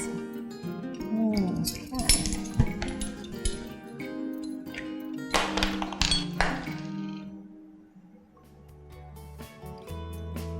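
Spoon clinking and knocking against a pot or bowl as chopped nuts are stirred into hot chocolate icing for Texas sheet cake, a busy run of close taps and scrapes that quiets toward the end.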